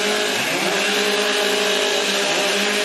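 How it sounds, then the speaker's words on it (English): Several chainsaws scream at high revs in unison at a STIHL Timbersports women's competition, a loud, dense, sustained whine with one engine's pitch rising early on. "Warm up your saws."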